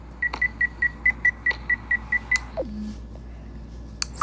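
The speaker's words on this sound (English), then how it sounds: "finally I broke that stupid beeping camera" A rapid run of about a dozen identical short electronic beeps from a camera at an even pace, then a falling tone and a few faint clicks.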